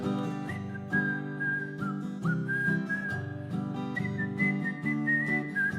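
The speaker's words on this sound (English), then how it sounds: "Whistle." Person whistling a tune during a live song performance, a clear sustained whistled melody riding on top of guitar and band backing, steady and prominent with no speech.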